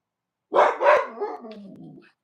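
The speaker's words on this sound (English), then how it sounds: "Dogs are going berserk with each other." Husky dogs bark at each other, a quick pair of loud, close barks followed by a lower growling, yipping tail, with silence before and no talk.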